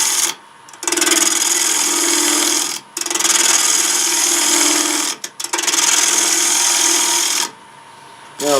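A half-inch bowl gouge cutting wood on a spinning lathe shaping a plate, loud close rasping shear with a steady hum, in several sustained passes broken by brief pauses.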